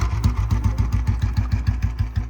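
A Royal Enfield Bullet motorcycle engine idles with a steady, loud thumping beat, its regular low-pitched pulses repeating evenly throughout.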